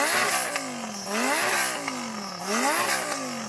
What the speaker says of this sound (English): Can I have a listen to what your exhaust sounds like? Can you rev it up?